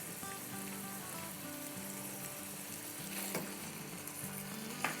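Chicken pieces fry in a pan with ginger and garlic paste, giving a dense continuous sizzle close up with occasional stirring scrapes and pops.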